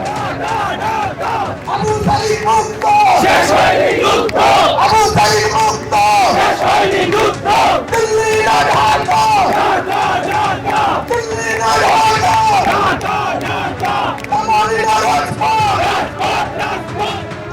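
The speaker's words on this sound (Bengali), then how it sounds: "সেখানে ভারতের বিরুদ্ধে স্লোগান উঠল।" A large crowd of students at a March for Unity rally chants slogans against India, loud and rhythmic with call-and-response waves and overlapping voices throughout.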